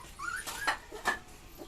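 Puppies whimper and yip softly at feeding time, giving a few brief, high, thin cries in close succession at low volume.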